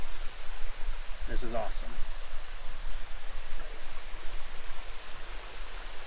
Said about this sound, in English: This is my first mountain waterfall I've ever experienced in the backcountry.